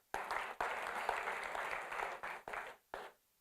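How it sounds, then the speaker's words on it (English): Applause from a fintech summit audience fills the room, a steady dense wash of clapping broken by a few brief gaps before it thins out and stops. "A round of applause for him again."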